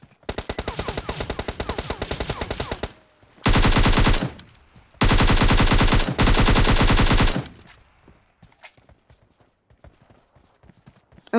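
Bursts of automatic gunfire in PUBG Mobile: a long rapid string of shots, then a short burst and two sustained loud volleys close by, trailing into quiet with faint scattered clicks.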